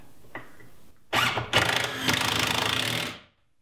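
A power driver sinks 3-inch screws into a wooden workshop storage shelf in two close, loud whirring bursts about three seconds long, preceded by a faint brief noise, with no talking.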